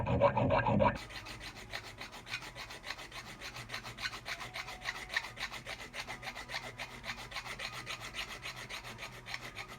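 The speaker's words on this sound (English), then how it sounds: "I'm going to file the inside of this tooth." A steady, continuous 7/32 chainsaw file rasps back and forth on the inside of a chainsaw tooth, with a louder scrape at the very start followed by even, rhythmic strokes.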